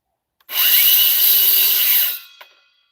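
A power tool whines loudly through wood, trimming a split edge off a wooden table for about a second and a half, then spins down with a brief clatter afterward.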